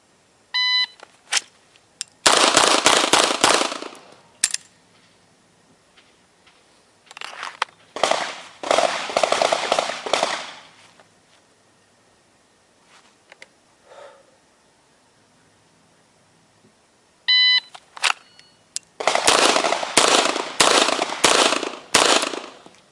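A Beretta M9A3 pistol fires strings of rapid shots on an IDPA 5x5 classifier course, each burst preceded by a shot-timer beep, with loud sharp reports in clusters separated by quiet pauses.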